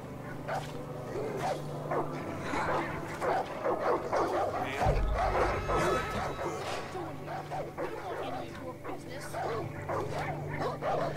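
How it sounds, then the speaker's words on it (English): Dogs bark and whimper in the video game Far Cry 5, with short yips and whines mixed under steady talk and game background noise. "Puppies."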